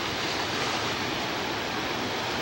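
Raging water surges below the Lake Sonoma dam, a steady, loud broadband roar of churning flow with no break across the whole stretch.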